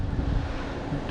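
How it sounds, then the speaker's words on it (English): Wind buffets a microphone outdoors during a bicycle ride in Japan, a brief, dense, low rumbling gust that stays steady throughout. "it's a little bit windy here"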